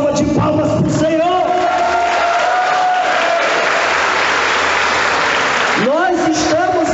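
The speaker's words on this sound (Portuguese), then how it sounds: "Dê uma salva de palmas para o Senhor." A congregation at a Catholic sermon in church applauds for the Lord: loud, sustained clapping from a large crowd, with a voice calling out over it at the start and again near the end.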